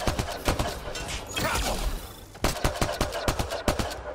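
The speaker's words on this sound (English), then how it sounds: "What is this with the shooting shit?" Gunfire in Mass Effect Andromeda during a fight on Eos: bursts of rapid sharp shots, a brief rushing lull, then a steady run of distinct cracks, moderately loud with no talk.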